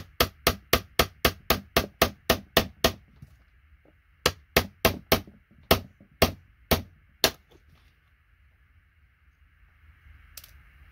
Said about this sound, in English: So I want to really be able to just chisel everything off quick.